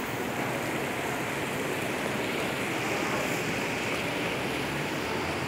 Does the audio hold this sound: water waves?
yes